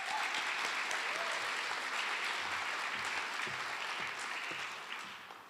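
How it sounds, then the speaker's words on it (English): An audience at an NCCAT Beginning Teacher of the Year ceremony applauds its sponsors, a full, even round of clapping from many hands that stays strong and then tapers slightly at the close. "Let's give them a big round of applause"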